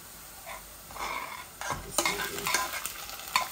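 Chopped onions go into a pan of browned garlic, stirred with a scraping utensil amid a steady sizzle that swells louder and busier partway through, with clinks of the spoon against the pan.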